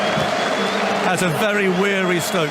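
Stadium crowd at Headingley in 2019 cheering and applauding Ben Stokes, a steady roar of clapping and voices running under a commentator who speaks throughout.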